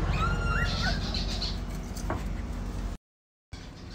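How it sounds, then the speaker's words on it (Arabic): Small birds chirping and tweeting in a pet shop, bright close calls over steady background noise, with a short silent gap near the end. "ما في غير عصافير هذا محل."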